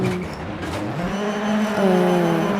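Rally car engine revving up under acceleration in Dirt Rally 2.0, a steady, loud rising drone with a shifting pitch, heard alone throughout.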